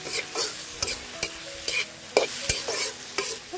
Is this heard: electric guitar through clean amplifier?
no